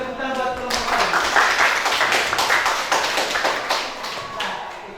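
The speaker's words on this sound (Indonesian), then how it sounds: "kasih tepuk tangan buat kelompok 1" A classroom of students claps for the first discussion group, a burst of close, uneven hand claps with individual slaps standing out, with voices mixed in throughout.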